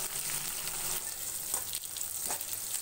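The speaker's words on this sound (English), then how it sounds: "Let us add red chilies, curry leaves, and onions. And fry for some time." Red chilies, curry leaves and onions fry in hot oil for a South Indian drumstick sambar, a soft continuous sizzle with faint crackles and occasional stirring scrapes, quiet and uninterrupted by talk.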